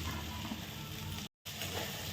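Washed, cut okra hisses and sizzles in a hot pan with spices, a steady soft crackle that drops out for a moment, then returns, quiet and close.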